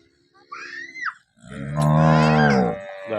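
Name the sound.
cow mooing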